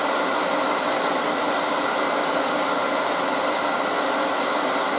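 A wood lathe with a threading jig spins at full speed, giving a loud, steady broadband whir with no break, close and without talk.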